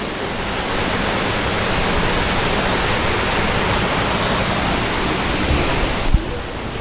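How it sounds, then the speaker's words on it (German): A garden waterfall pours in a steady, loud, unbroken rush of water, heard close up and alone for the whole stretch. "Ein Wasserfall im Garten."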